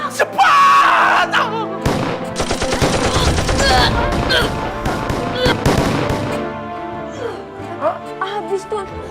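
Gunfire sound effects burst out during a Betawi lenong stage comedy, a loud rattling volley of shots lasting a couple of seconds amid shouting and excited voices.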